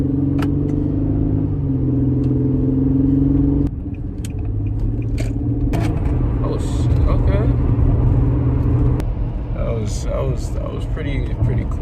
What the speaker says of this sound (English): We are taking it for the first drive.